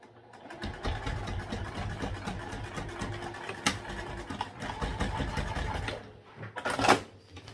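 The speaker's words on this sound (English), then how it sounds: "Okay, and we'll sew this on." A sewing machine stitches a crossbody bag, a steady close mechanical whirring run of several seconds that stops briefly before a short final burst.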